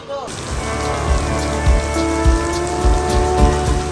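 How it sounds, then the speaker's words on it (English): Rain pours steadily, with scattered heavier drops pattering on a nearby surface and a low rumble underneath throughout. "Now we're having another rain break"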